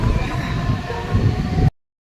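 A Mumbai local train on platform 6 rumbles steadily and loudly up close before the sound cuts off abruptly into silence.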